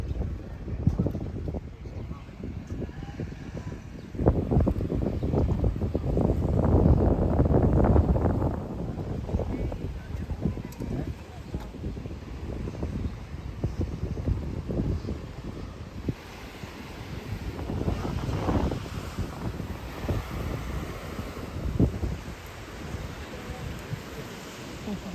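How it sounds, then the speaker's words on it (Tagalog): Wind buffets a boat at sea in a steady, loud roar with rumbling microphone gusts that swell and ease, over a wash of waves, with faint voices in the background. "Ang hangin."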